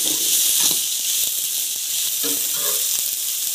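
Green beans sizzle in a hot pan while being sautéed for Japanese-style chow mein, a steady bright hiss that runs the whole time with faint small crackles underneath.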